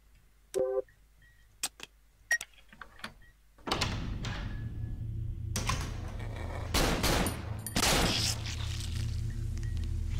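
Gunfire in the horror video game Cry of Fear: a few sharp isolated shots, then a dense loud burst of rapid firing with booming impacts and echo, with no talking.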